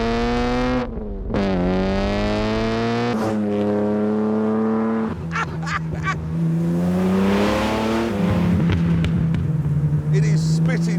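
Eagle Speedster built on a Jaguar E-type, its engine revving and roaring loudly through rising and falling gear changes, with rasping crackles and pops on the overrun, up close and continuous for the whole stretch.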